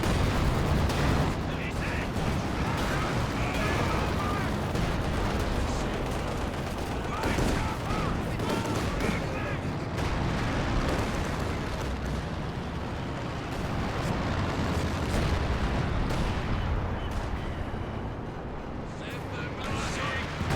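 In a Company of Heroes 2 battle, mechanized artillery fire and explosions rumble continuously as dense, loud bursts of gunfire and blasts, with a commentator talking over them throughout.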